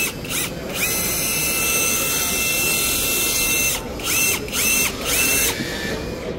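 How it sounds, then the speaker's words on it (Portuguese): Hyundai brushless impact wrench running in short bursts: one brief burst near the start, then three quick spurts later, each revving up and cutting off, close by with a steady background hum between them. "Chave de impacto eu não mostrei bem de perto"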